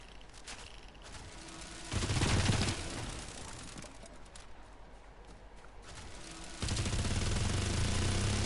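Bursts of automatic gunfire from a Fortnite weapon with heavy recoil, loud rapid volleys around two seconds in and again near the end, separated by quieter game ambience.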